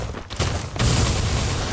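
Gunfire crackles during an esports video game match, loud sustained bursts of shots with a sharp jump in intensity partway through.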